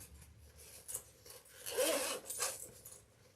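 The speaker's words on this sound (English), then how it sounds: "I'm going to separate my zipper" A metal zipper is pulled apart while sewing a crossbody handbag, giving a close, short raspy scrape with a few softer rubbing sounds around it.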